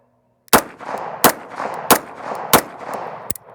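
Five sharp pistol shots ring out at a shooting range, spaced evenly about two-thirds of a second apart, each loud and close with a short echoing tail.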